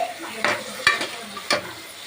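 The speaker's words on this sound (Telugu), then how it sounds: "ఇప్పుడు ఉడకబెట్టుకున్న బొటానీలు దీంట్లో యాడ్ చేసుకోవాలి యాడ్ చేసుకొని కలుపుకోవాలి" Boiled peas are stirred into a potato curry frying in a pan, a soft sizzle marked by three distinct scraping strokes of a spoon, close and without speech.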